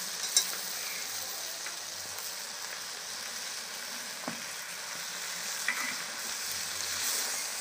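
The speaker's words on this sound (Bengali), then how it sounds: "এবার ধুয়ে রাখা শাকগুলো দিয়ে একটু নাড়িয়ে চাড়িয়ে নেব।" Washed greens being stirred in a frying pan, a steady soft sizzle running throughout with occasional light clinks and scrapes of the spatula, no talking.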